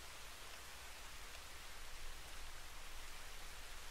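Steady rain hisses as a broad, even wash of noise in the video game Ghost Recon Breakpoint, faint and continuous with no voices over it.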